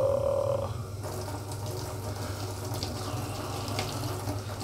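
Tap water running steadily from a faucet over a burned hand, a continuous close hiss and splash that holds at even loudness throughout after a brief tone at the start.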